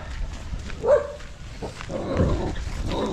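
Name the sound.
dog barking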